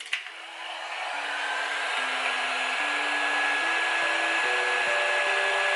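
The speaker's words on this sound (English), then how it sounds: "we're going to put some heat just onto the nut to help us remove it." Heat gun or hair-dryer-style blower heating a tight nut on a Royal Alloy Scomadi TL 125 scooter during a belt fit, a steady loud whooshing roar with a shifting whine that starts abruptly and holds throughout.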